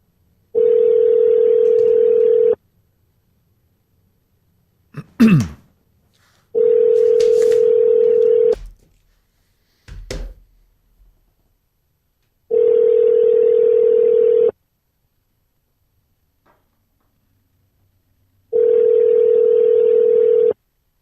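Telephone call ringing on the line: long, loud, steady ringback tones about two seconds each, repeating at regular intervals, with brief clicks and noises between the rings.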